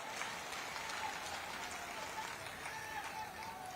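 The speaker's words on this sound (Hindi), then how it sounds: "ताली की गड़गड़ाहट से धन्यवाद दिया जाए" Crowd applause at a public political rally in Guna, Madhya Pradesh, a broad steady wash of clapping lasting throughout at moderate level, with faint voices mixed in.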